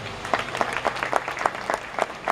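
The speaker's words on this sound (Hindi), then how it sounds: "जोरदार तालियां दोस्तों।" Audience applause at a seminar in a crowded hall, hands clapping in a quick, fairly regular rhythm of distinct claps, close and loud.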